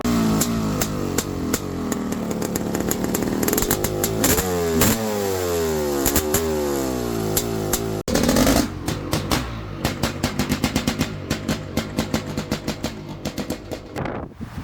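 A Honda CR500AF dirt bike engine revs loudly and repeatedly up close through a raspy, popping homemade welded pipe exhaust, rising and falling, with wind buffeting the microphone.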